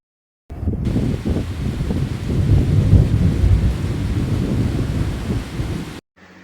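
A thunderstorm with a long, loud roll of thunder after lightning, rumbling steadily for several seconds over rain and wind noise, then cutting off abruptly.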